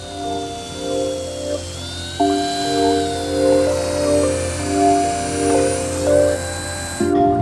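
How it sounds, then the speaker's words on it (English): Drilling holes for a brass handle in a mahogany front fixed onto oak for a side table, a close steady high whine that keeps shifting pitch and surging in repeated waves, with no voices. "And drilling the holes for the brass handle."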